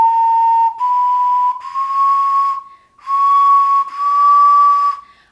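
A cheap Amazon ocarina plays high notes that waver and sound wonky, a loud, breathy whistle-like tone held in several long notes with short gaps between them, played alone with no talking.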